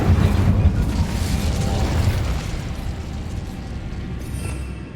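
Incendio fire spell cast in the Hogwarts Legacy video game: a loud whooshing burst of flame up front that gradually thins into a softer, crackling tail.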